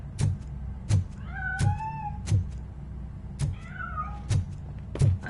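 A cat meows repeatedly in a RoboCop video game, two drawn-out rising and falling meows standing out over a steady low rumble and a regular series of heavy thumps.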